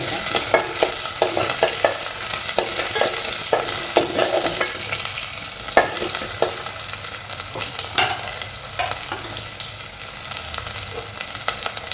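Onion sizzling in a pan for a dozen seconds, a dense continuous fry with frequent clicks and scrapes of stirring, close and loud, no talking.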